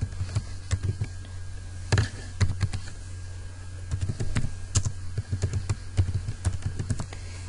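Someone types a name on a computer keyboard, producing light, irregular key taps in short runs with brief pauses, close and fairly quiet over a low steady hum, and no voices.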